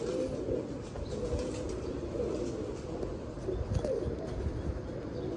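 Pigeons kept as pet breeding pairs coo in low repeated rumbles, close and continuous, with occasional soft rustles that may be wing flaps.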